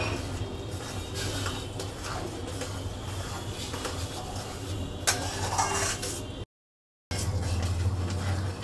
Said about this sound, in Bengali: খুন্তি দিয়ে তারপরে সব বাকি মশলার সাথে মিশিয়ে দিচ্ছি